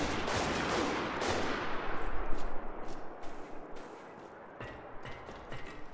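Gunfire in Spec Ops: The Line multiplayer comes as a heavy opening blast followed by scattered sharp shots and bursts, loud and close, continuing at a lower level.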